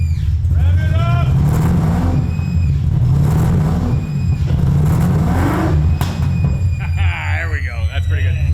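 Supercar-engined Ford Mustang revving loudly up close, a steady heavy rumble with rising pitch sweeps, while people talk and call out over it.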